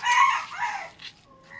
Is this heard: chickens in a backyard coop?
yes